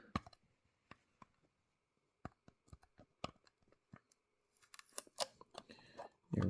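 Tape being peeled and tugged off a display case holding a 1/64 resin model of a Ferrari 812 Superfast Novitec, heard as sparse sharp clicks and crinkles that build into a denser rustling burst at the end, with no talking.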